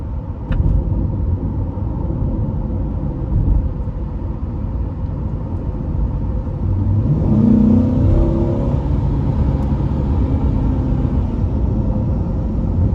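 A 2020 Corvette C8 3LT Z51 cruises along a back road, its engine giving a steady low rumble beneath road and tire noise, swelling briefly in a louder surge midway before settling back to a constant drone.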